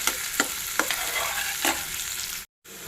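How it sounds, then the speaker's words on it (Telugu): Dry fruits frying in a pan for sheer khurma, a steady bright sizzle with a few distinct stirring scrapes, close and loud with no talk, cut briefly by a moment of silence near the end. "ఇవి మాత్రం వేగితే చాలండి డ్రై ఫ్రూట్స్."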